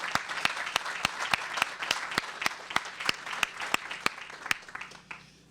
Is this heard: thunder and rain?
no